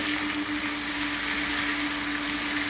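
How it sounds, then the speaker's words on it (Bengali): Ridge gourd and other vegetables frying in a pan for a fish curry give a steady, even sizzle that stays constant and fairly close, with no talking over it. "নুন দেওয়া আছে, এটা ভাজা হবে। এটা ঢেকে ভাজবো"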